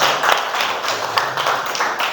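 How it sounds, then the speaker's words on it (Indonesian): Students in a classroom clap together for a presenting group, a brief, dense burst of applause that holds steady at moderate loudness. "Kasih tepuk tangan untuk kelompok 4."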